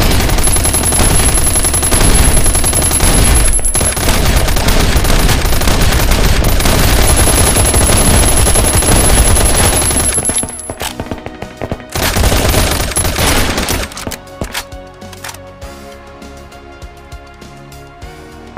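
Two bombs set on a cabinet in the survival game Last Day Rules Survival explode during a raid, making a dense, loud roar of blasts and rapid gunfire-like cracks for about ten seconds. Scattered bangs follow before the noise fades.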